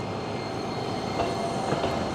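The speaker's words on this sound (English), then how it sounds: "they can curve around on this little side track" A Toyohashi tram rolling along rails as it curves onto a short side track, with a steady low rumble of wheels and faint squeals rising in the second half, fairly close and with no voices.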